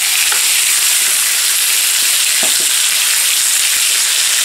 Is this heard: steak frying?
yes